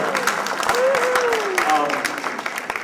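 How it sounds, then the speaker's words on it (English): A gathering applauds the cooks who prepared the food, steady clapping underneath while a person talks over it. "Give these people a round of applause right here for making this food."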